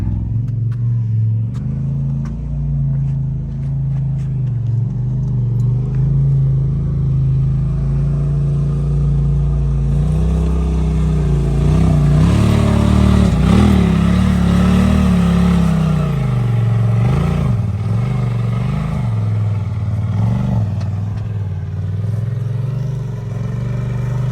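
A UTV engine climbs a steep hill with a loud, sustained rumble that swells into harder revving through the middle stretch, then settles into a steady drone; no one talks.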